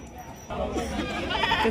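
Goats bleat at a busy rural livestock market in Chillakallu, Andhra Pradesh, their cries rising over a loud crowd of voices and general market bustle.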